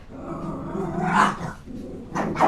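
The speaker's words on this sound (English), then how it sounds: "The dogs just decided that they want to have a fight." Dogs growling and snarling in a fight inside the Farming Simulator 25 farming game, a rough low rumble with a couple of louder bursts, fairly near and alone.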